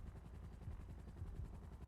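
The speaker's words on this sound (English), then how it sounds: "There's a police helicopter, look at that." Police helicopter in GTA V passing overhead, a faint, low rhythmic rotor thump with a steady beat through the short stretch.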